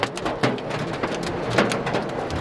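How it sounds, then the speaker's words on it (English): Heavy rain mixed with hail pounding the roof of a van during a July storm, a dense, loud drumming patter with sharper clattering hits scattered throughout, no voices. "See how hard the rain is coming and how much hail we got."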